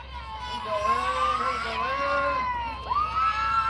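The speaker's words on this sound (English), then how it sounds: "Fans are starting to cheer it." Fans at a junior varsity high school softball game cheer and shout, a crowd of high, child-like voices rising and falling in a sustained roar, with a brief dip before swelling again.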